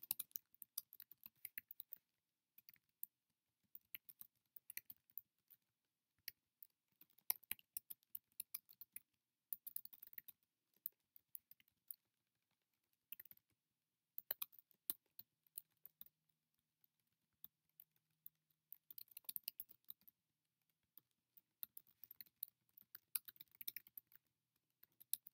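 Website copy is typed on a computer keyboard in soft, irregular bursts of key clicks separated by quiet pauses, close and faint.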